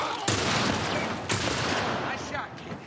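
Rapid bursts of gunfire crackle through a firefight in The Last of Us, a dense volley starting sharply and a second loud burst following about a second later, with a voice briefly audible near the end.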